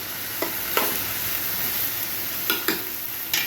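Vegetable bhaji being stirred in a frying pan, a steady sizzle underneath with a few scraping strokes of the spoon at irregular intervals, close and fairly quiet.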